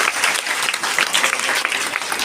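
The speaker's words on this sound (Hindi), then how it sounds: "बच्चों आप अपने लिए तालियां बजा दो जोरदार।" Schoolchildren clap hard for themselves at a Vedic celebration event at a Ludhiana public school, a thick, continuous burst of many small hands, bright and near, with a few voices faintly under it.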